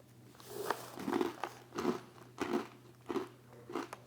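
Crisp crunching of a pretzel, cheese and cereal snack being bitten and chewed, in repeated bursts roughly every half second, close and clear.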